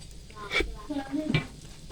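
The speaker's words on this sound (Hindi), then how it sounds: "बंद का ऊपर वाला ऐसा फ्राई कर लेंगे।" A burger bun's top half frying in a pan for a street-style burger, giving a soft sizzle with a couple of brief stirring or scraping bursts, close by and fairly quiet.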